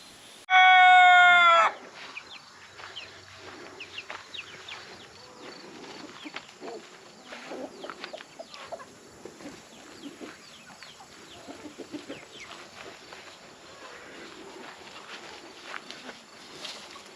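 Chickens cluck softly and steadily in a quiet outdoor setting during chicken chores, with scattered footsteps. A loud rooster crow near the start is the only prominent call.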